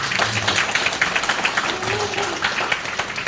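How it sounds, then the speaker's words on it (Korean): Audience applause at a seminar, a steady patter of clapping from a crowd of moderate size heard at middle distance for a few seconds, with a voice briefly audible beneath it. "박수 한 번만 보내주시죠"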